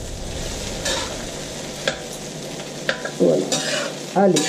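Squash and eggplant with ginger stirred in a hot pan make a low sizzle broken by scraping utensil strokes that grow louder toward the end, and someone speaks a couple of brief words near the start.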